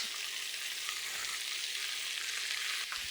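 Collard greens and bacon frying in a pan, a steady bright sizzle and crackle with a brief stir near the end, fairly faint and close, with no talking.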